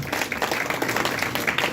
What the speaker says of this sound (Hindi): सो उनके लिए भी तालियां.